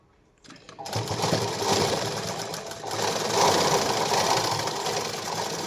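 A sewing machine stitches a katori blouse, a loud, steady mechanical whirring and rattling that starts abruptly and runs without pause, close by.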